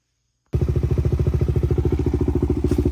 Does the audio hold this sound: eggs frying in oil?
no